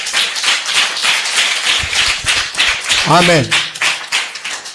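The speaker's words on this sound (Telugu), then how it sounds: "గట్టిగా గట్టిగా చప్పట్లు కొట్టి యేసయ్యను మహిమపరుచుకుందాం గట్టిగా" A church congregation clapping loudly and rhythmically in unison during worship, steady close hand claps throughout, with a voice calling out briefly partway through.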